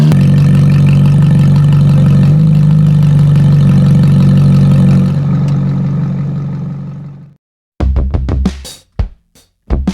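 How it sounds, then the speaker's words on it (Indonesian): A car engine idles with a steady loud rumble while an exhaust pipe is checked for leaks, then cuts off, followed by several sharp clanking knocks close by. "Selanjutnya menyalakan mesin mobil untuk mendeteksi kebocoran-kebocoran pada saluran pipa knalpot."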